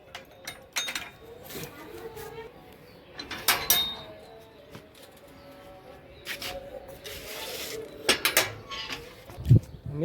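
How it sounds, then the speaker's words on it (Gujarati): Dishes being washed outdoors, with scattered clinks, knocks and scrapes of pots and cutlery over a quiet background. "બહાર વાસણ ધોવાય છે"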